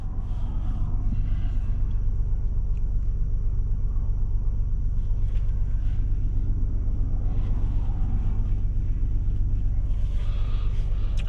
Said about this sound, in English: just waiting for some traffic to go by